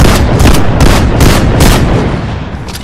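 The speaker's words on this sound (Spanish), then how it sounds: "los disparos" A loud, dense stretch of video game weapon fire: rapid, repeated shots blend into a sustained barrage that holds steady throughout and eases only slightly toward the end.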